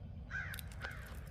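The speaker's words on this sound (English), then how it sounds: "There's some more crows right there." Several crows caw in a quiet neighborhood garden, two or three harsh calls spaced apart at moderate distance over a low steady background rumble.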